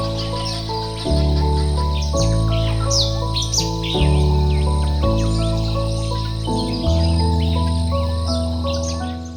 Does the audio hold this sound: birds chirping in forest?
yes